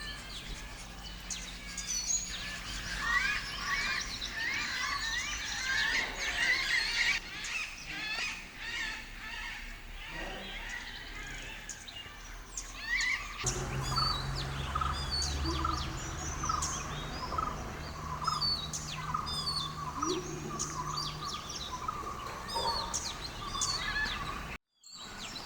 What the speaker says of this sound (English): I also saw this noisy Malabar grey hornbill.